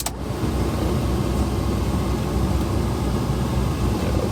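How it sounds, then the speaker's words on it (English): Air conditioning fan of a Kia Bongo III 4WD truck blowing hard inside the cab, a steady whooshing hiss that starts abruptly and holds at constant strength, no voices. "Let's try the AC."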